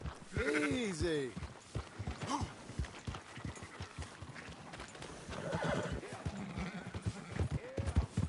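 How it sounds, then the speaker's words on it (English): Sheep bleating in Red Dead Redemption 2 amid horse whinnies, hoof clops and a dog, with a loud neigh early on and scattered animal calls and low talking voices running throughout. "Fine sheep."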